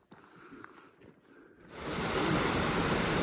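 A waterfall along the Colorado Trail roars in suddenly after a quiet opening with faint rustles, becoming a loud, dense, continuous rushing wash that fills the rest of the moment.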